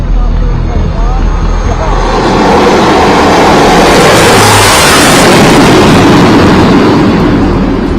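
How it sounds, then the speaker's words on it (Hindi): Air force planes roar overhead during a dress rehearsal, a loud sustained rumble that swells midway and holds steady to the end, with no voices. "प्रधानमंत्री के उद्घाटन करने से एक दिन पहले एयरफोर्स के विमानों ने ड्रेस रिहर्सल की"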